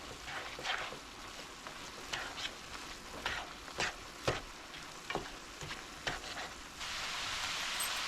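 Ground meat with onions sizzling in a pan, a steady frying hiss broken by sharp scraping stirs of a utensil, heard close and fairly quiet, swelling into louder sizzling near the end.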